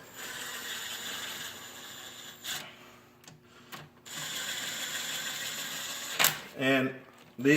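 Ratchet taking up slack on engine bolts of a Yamaha YXZ bottom end, a steady close run of fast clicking pawl bursts broken by brief pauses, with a voice heard under it.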